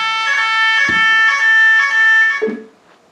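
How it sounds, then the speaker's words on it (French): An electronic alarm rings loudly and steadily in a pulsing tone for about two and a half seconds, then cuts off. "Par contre, il y a une alarme là"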